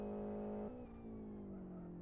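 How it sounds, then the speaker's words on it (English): A 1.4 litre race car engine in the Live for Speed racing game, held at a steady high rev with a strong harmonic whine, then briefly dipping and settling into a slowly falling pitch, alone and fairly close. "let's have a listen to what this car sounds like"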